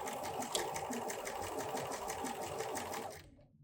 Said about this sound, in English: I sewed right off the edge of my fabric.